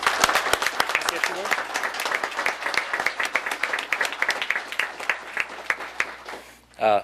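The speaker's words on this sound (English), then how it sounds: "I'd like everyone to give a round of applause for Angela." Audience applause at a town board meeting, a room of people clapping with distinct individual claps audible, fading slightly before a voice comes in at the very end.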